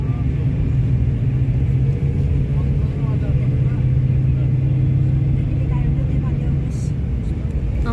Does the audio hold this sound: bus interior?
yes